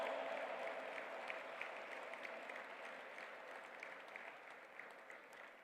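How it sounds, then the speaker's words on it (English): An audience at the G20 Interfaith Summit in the World Peace Dome applauds after a speech, a soft, sustained roll of clapping heard from a distance that slowly tapers. "A big round of applause, my friends."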